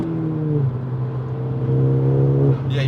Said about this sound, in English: Definitely feel the boost kicking in.